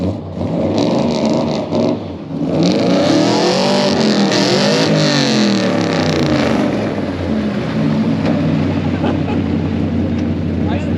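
A car engine revs hard under throttle, loud and close, its pitch climbing and falling through a couple of swells over a constant droning roar.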